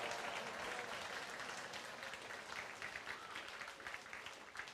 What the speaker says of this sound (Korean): 힘차게 박수 치면서